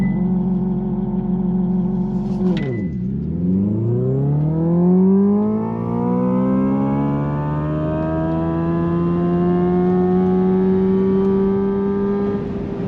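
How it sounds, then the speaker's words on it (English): A Hyundai Ioniq 5 N electric car launches hard from a standstill using launch control, its synthetic drive tones dipping and then rising steadily as it accelerates, loud and continuous for the whole run with no talking. "so now we are doing a launch control, and I've just activated N launch control"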